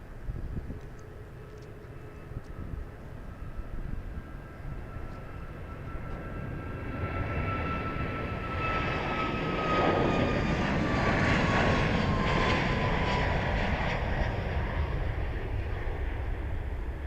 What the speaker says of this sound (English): Flight 1855 off to El Paso. It's another 737 MAX 8